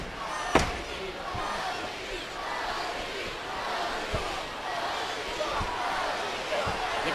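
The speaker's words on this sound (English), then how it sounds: "You can hear the WWE Universe chanting Yoshi." A WWE wrestling arena crowd chants a wrestler's name during a match. The broad crowd roar is steady and moderately loud throughout, with several sharp impacts from the ring cutting through it.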